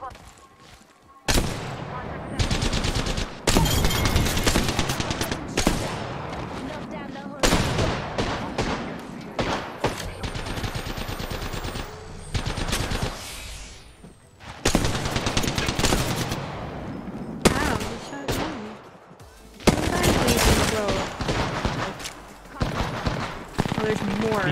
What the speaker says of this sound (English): My teammate's shooting at me.